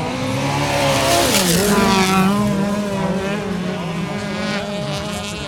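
Rallycross race cars at a national championship event in Piiroja roar past in a pack, engines revving and shifting pitch as they accelerate off the start, loud and continuous with layered overlapping engines.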